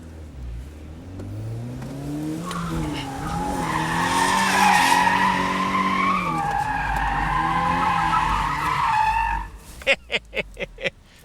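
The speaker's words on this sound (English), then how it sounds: "So for a stock car, it should skid." Tires of a stock car squeal and skid loudly while drifting as the engine revs, the screech wavering for several seconds before ending in a few sharp bursts.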